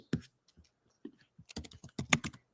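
Keys clatter on a computer keyboard in short, quiet bursts, a few isolated taps followed by a quicker run of close keystrokes.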